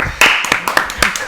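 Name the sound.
people clapping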